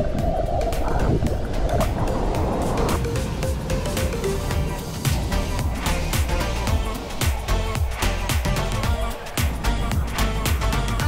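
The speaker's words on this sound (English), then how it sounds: "Let's go behind the waterfall." Kawasan Falls waterfall in Cebu, Philippines, heard up close along a canyoning trail: a dense, continuous roar of rushing and splashing water filling the whole clip, with brief faint talk early on.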